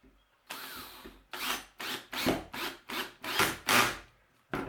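A power driver sinks a 2 5/8 inch screw into a wooden wren house and squirrel feeder kit, producing a series of rhythmic grinding bursts as the screw bites into the wood, close and fairly loud with brief pauses.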